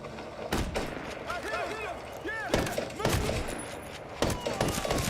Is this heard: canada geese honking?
no